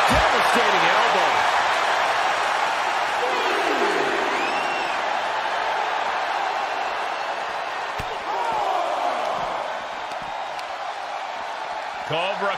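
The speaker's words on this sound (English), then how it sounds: "you hear this capacity crowd following you on that journey" Capacity crowd in a wrestling arena roars and cheers steadily throughout, a dense wall of noise from many voices with occasional whoops and sharp impacts, loud and continuous, easing slightly toward the end.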